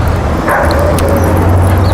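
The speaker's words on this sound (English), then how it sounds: "She's barking a little bit at us." A dog named Queenie, a female at a training ranch, gives short, fairly loud yips and barks mixed with whimpers, close by, with no talk over them.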